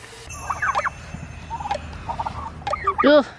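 Turkeys gobble in short bursts at close range, with several warbling calls spread across a few seconds over a steady background hum of a poultry yard.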